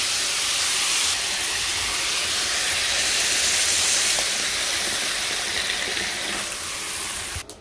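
Water poured into a hot pan of frying vegetables with green chillies, turmeric and chilli powder in a village kitchen, giving a loud continuous steaming hiss that slowly fades near the end.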